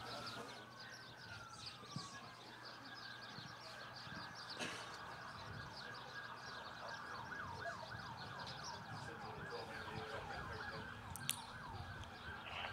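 Emergency sirens from fire trucks and an ambulance wail as they respond to a personal injury crash, a wavering siren tone blending with traffic noise and what sounds like a busy street.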